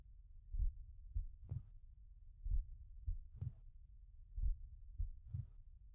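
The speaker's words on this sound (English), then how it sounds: "Oh god, not the heartbeat again." A low, muffled heartbeat in the Hero Factory video game thumps steadily in paired lub-dub beats, roughly one pair per second. It is fairly quiet and plays alone with no talking.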